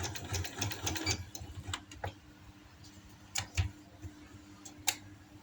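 A sewing machine stitches the buckram lining inside a capri waistband in short bursts of rapid ticking, then stops and starts with a few isolated clicks, quiet and close with no speech.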